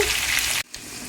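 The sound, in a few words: onions frying in a pan for upma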